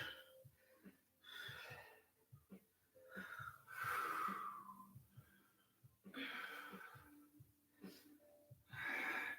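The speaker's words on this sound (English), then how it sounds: "A couple more big breaths." Deep, audible breaths during a yoga stretch in a legs, glutes and core workout, with several long inhales and exhales swelling and fading in a slow, steady rhythm, close to the microphone and with no talk over them.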